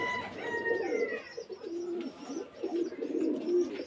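Rajshahi Giribaz pigeons coo in a loft, several low rolling coos repeating in rhythmic bursts close by, with faint chirps in the background.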